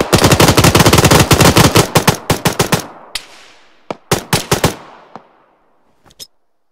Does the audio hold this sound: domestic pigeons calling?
no